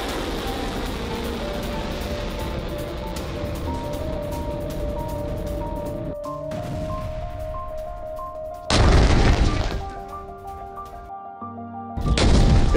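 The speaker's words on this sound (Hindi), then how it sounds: "सना में हूती के ठिकानों पर बरसा है बम" Bombs exploding on Houthi targets in Sanaa in news footage, with a low rumbling roar under steady tones, then two sudden loud blasts that die away fairly quickly.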